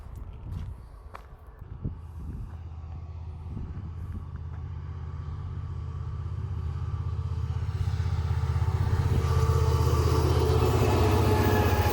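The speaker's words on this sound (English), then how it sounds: "There's a train coming." A train approaches, its low rumble steadily building into a loud, sustained roar with rising hiss as it passes close by.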